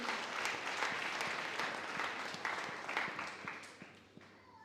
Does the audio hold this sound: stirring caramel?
no